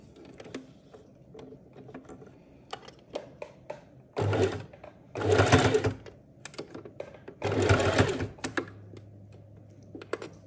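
A domestic sewing machine runs topstitching along fabric, for makeup-remover wipes, in three bursts of rapid whirring stitches. Quiet clicks and handling noises fill the pauses between the runs, and nobody speaks.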